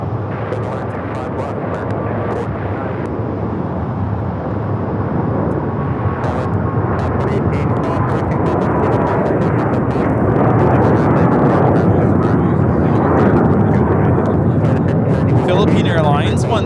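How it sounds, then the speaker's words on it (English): A Philippine Airlines Boeing 777-300ER takes off from Los Angeles airport bound for Manila, its jet engines a loud, broad, sustained roar that builds slightly over time, with occasional voices and clicks nearby. "Philippine Airlines 113 taking off to Manila on the 777-300ER."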